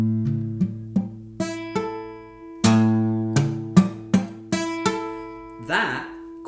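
Acoustic guitar strummed with only the first finger barring three strings, a run of short ringing plucks with clear decays, some notes repeated and a final scratchy string noise, alone without talk.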